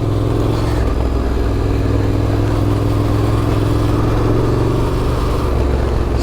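Yamaha Tenere 700 motorcycle engine running steadily while riding through woods, a continuous loud mid-pitched drone with low rumble and no clear revving peaks, close and alone without talk.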